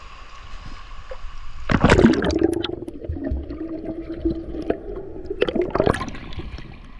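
People splash and swim in a clear outdoor village swimming spot after heavy rain, with a strong splash early on, ongoing gurgling and sloshing, then another burst of splashing near the end.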